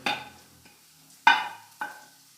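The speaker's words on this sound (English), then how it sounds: "So now once the pan is hot, add oil, saute garlic" Garlic and ginger, eight chopped cloves and half an inch of chopped ginger, dropped into hot oil in a pan, crackling in three sharp sizzling bursts that quickly fade, with quiet gaps between.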